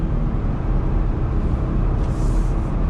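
Steady low road rumble fills the cab of a lifted 2020 Jeep Gladiator Rubicon while driving, a constant broadband drone with no talk over it.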